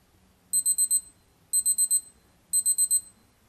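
A Citizen Attesa ATV53-2834 wristwatch alarm 2 tone: a high electronic beep repeating in three groups of four quick pulses, evenly spaced, clear and close against a quiet background.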